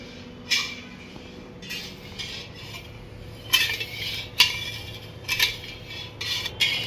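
A utensil stirs sugar in a pan on low heat to melt it for sweet boondi syrup, giving irregular scraping and clinking strokes against the metal, close and fairly quiet, with short pauses between bursts.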